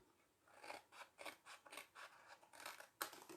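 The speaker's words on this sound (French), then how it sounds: "Et là, on coupe toute cette partie-là." Scissors snip through craft material while a Christmas bauble is being made, roughly a dozen close, crisp cuts in a steady rhythm, with one sharper snip near the end and no talking.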